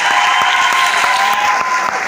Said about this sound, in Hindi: उसके लिए बहुत तालियां बजाएं।